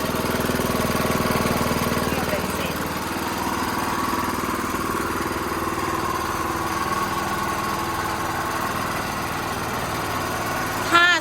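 Small engine idling steadily on a used Japanese Maruyama aerial lift truck, a 3.5-metre farm machine for a durian orchard: a constant close-up mechanical drone with a faint rattle, unchanged throughout apart from a brief knock at the end.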